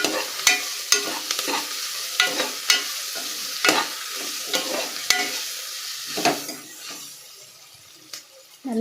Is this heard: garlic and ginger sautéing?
yes